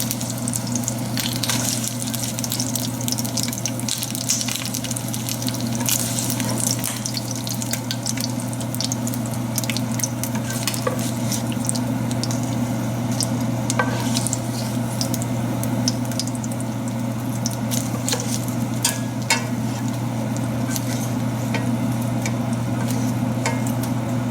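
Prawns frying in oil in a pan, a continuous even sizzle with occasional crackles and spoon stirring, alongside a steady low hum, close and with no talking.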